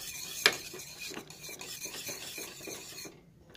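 Melted butter being stirred into banana brownie batter, a close, soft scraping and rubbing of a utensil against a bowl in short repeated strokes, with one sharper knock near the start before it falls quiet.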